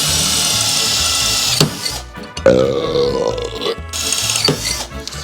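A power drill boring a 9mm hole during a car oil cooler installation, its loud motor whine running continuously, then stopping and restarting with shifting pitch as the bit bites, close up with no talking.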